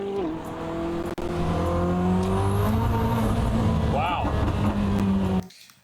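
A powerful supercar engine, Koenigsegg, Rimac or Hennessey, revving and accelerating, a loud sustained roar with rising and falling pitch, a brief cutoff, then building again before fading out at the end.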